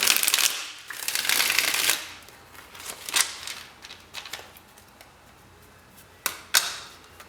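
Tarot cards are shuffled by hand in several quick, crisp riffling bursts, close and fairly quiet, separated by short pauses and a few sharp taps.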